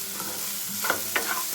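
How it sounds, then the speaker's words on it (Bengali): Chopped onions sizzling in a pan as a spatula stirs them, with several quick scraping clacks near the end over the continuous frying hiss. "পেঁয়াজ কুচিগুলোকে এখন একটু নেড়ে চেড়ে নেব।"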